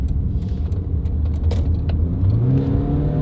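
An LS1 V8-engined BMW E30 revs inside a tunnel, a deep booming rumble with echoing reflections, its pitch climbing steadily toward the end as the car accelerates.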